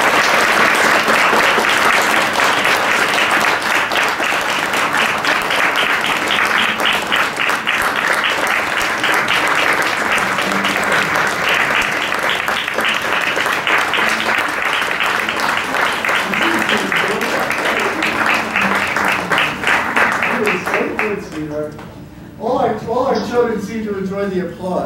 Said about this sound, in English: Please, by your applause, welcome to the church.